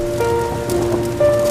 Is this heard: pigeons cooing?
no